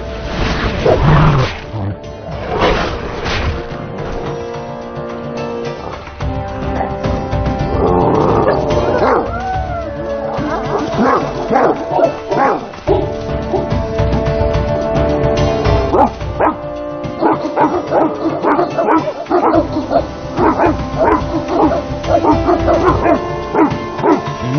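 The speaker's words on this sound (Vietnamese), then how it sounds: "Con chó đó từ đâu đến vậy nhỉ?" A Tibetan mastiff in an animated film barks, growls and roars loudly and repeatedly over dramatic orchestral film score, with the animal sounds and music dense and continuous throughout.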